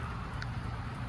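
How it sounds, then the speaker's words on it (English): Light rain falls outdoors in a steady, soft, faint hiss with no distinct drops standing out. "it's still raining a little bit."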